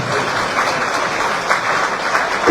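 Dense applause from a crowd, continuous and fairly loud, with no voices standing out.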